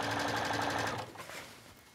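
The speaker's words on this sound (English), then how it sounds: "I'm just letting it glide through the machine." Sewing machine stitching bias trim around a garment neckline, a fast, even mechanical whir of the needle running for about a second before slowing and fading to quiet hum.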